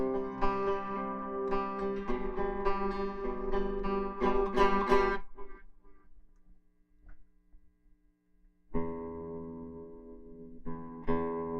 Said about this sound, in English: the hum from these P90s is crazy